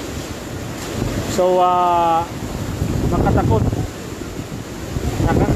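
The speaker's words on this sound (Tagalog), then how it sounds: "Malakas ang hangin dito sa location namin, malakas ang hangin." Strong winds of Super Typhoon Rolly (Goni) roar over Naga City in a steady, loud broadband rush, with a brief tonal whine rising in the middle and a voice speaking over the storm.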